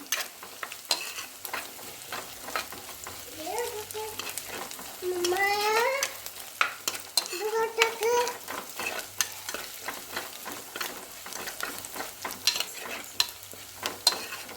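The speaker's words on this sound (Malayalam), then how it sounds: "നല്ലോണം ഉണക്കച്ചെമ്മീൻ റെഡിയായി വന്നിട്ടുണ്ട്." Dried shrimp stir-fried in a home kitchen pan, a steady low sizzle with scraping stirring strokes and occasional clinks, plus brief faint voices and chirpy background sounds.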